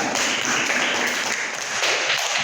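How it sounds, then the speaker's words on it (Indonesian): A class applauds a student's presentation with brief, dense clapping from a small group of hands close by. "Tepuk tangan buat dia"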